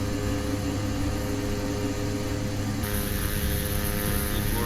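Steady, even drone of a Dash 8-100 twin turboprop airliner in Flight Simulator X, heard from outside the aircraft, loud and continuous with no talking.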